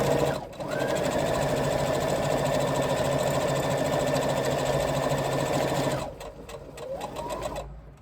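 A sewing machine chain stitches the top stitching on a crossbody bag, running in a steady continuous whir for about six seconds at close range before stopping, followed by a few softer handling clicks.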